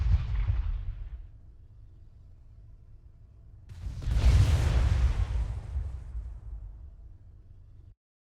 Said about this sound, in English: the artillery unit can strike at your enemy from long range and delivers a